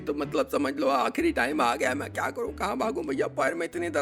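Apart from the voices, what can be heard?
No distinct noise like a dog, phone or traffic.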